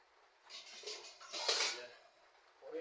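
A small spoon clinks lightly against dishes during cooking, a few quiet metallic taps and rattles close by.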